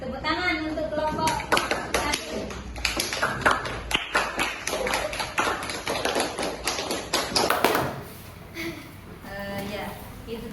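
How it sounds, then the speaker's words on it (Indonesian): Classroom applause for a student group after presentations, with sharp individual claps and taps heard close up amid voices talking, before it thins out to quieter room noise at the end. "Tepuk tangan untuk kelompok"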